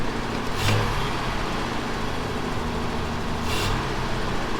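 A 1967 Plymouth four-door sedan's engine runs at a steady high idle, a low, even drone at moderate level, with a couple of brief rushing swells of noise and no talking.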